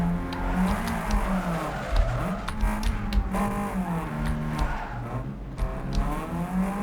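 Car drifting in Need for Speed Underground 2 (NFS Underground 2) racing game, engine droning steadily with wavering pitch as tires squeal through a sustained slide, loud and continuous without talk.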